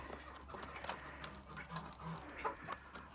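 Three-month-old mixed-breed chickens, three hens and the rest young roosters, cluck softly in short irregular bursts amid scratching and rustling, fairly close, over a low steady hum.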